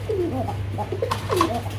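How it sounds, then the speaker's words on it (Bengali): Sky-blue Rajgolla fancy pigeons cooing in soft, repeated rolling calls at close range, with a steady low mechanical hum underneath. "এখানে আরো এক জোড়া কবুতর আছে, আর এটা হলো রাজগোল্লা, আকাশি কালারের রাজগোল্লা"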